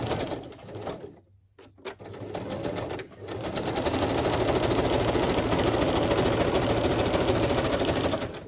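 A sewing machine stitches decorated journal pages in a fast, even whirring rattle, briefly stopping and restarting before running steadily and loudly to the end.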